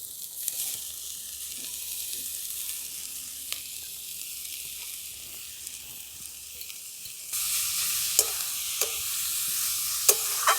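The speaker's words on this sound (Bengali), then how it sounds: "যে কেটে রেখেছি গাজর, বাঁধাকপি, ফুলকপি সব একসঙ্গে দিয়ে দিচ্ছি" Carrots, cabbage and cauliflower go into a hot kadai together and are stirred, giving a steady soft sizzle that grows louder and brighter partway through, with a few scraping stirs.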